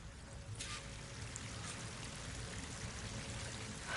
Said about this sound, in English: That waterfall must be coming from somewhere.